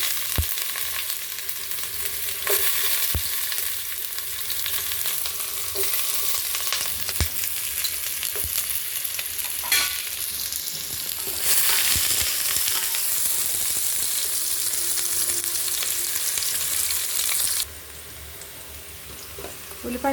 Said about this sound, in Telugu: ఒకటి ఇది ఫస్ట్ ఆయిల్ వేడండి, ఉల్లిపాయలు వేసుకున్నాము